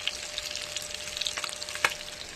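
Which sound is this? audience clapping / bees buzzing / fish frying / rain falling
fish frying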